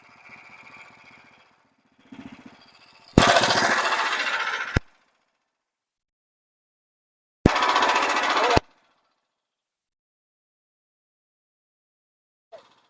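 Portable Frontier sawmill making its first cut through a log, heard as two loud, close bursts of steady engine and blade roar separated by quiet, with brief talk before them.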